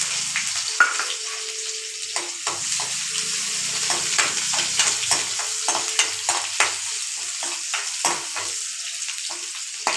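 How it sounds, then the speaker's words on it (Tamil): Onions added to hot oil with cumin, crackling and sizzling steadily while a spatula scrapes and stirs in repeated strokes, close and moderately loud. "இப்போ வெங்காயம் போட்டுக்கலாம்"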